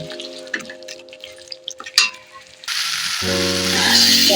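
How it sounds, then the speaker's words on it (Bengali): Boiled potatoes hit hot oil in a pan and start frying with a loud, steady sizzle that swells after a few light scrapes and clinks of stirring. "আলু সেদ্ধটা দিয়ে দিলাম এইভাবে আলু সেদ্ধ আমি এক দু মিনিটের মতো নেড়ে নেব"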